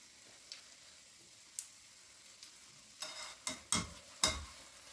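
Soft sizzling of egg and onion fritters frying in a pan, quiet at first, then a run of sharper scrapes and stirring clatters toward the end.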